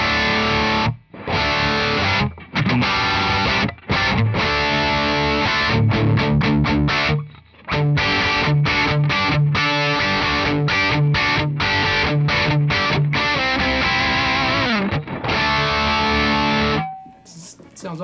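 An electric guitar through a Wampler ReWired drive pedal on the blue channel at high gain, loud crunchy chords and riffs with short pauses, ending on a ringing note.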